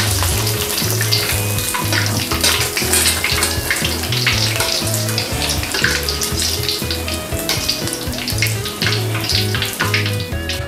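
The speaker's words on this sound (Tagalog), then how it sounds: "tapos na tayong magprito ng ating squid with butter mix" Batter-coated squid with butter frying in hot oil in a wok: a steady, loud bubbling sizzle with crackling spatter that runs throughout, with no voices.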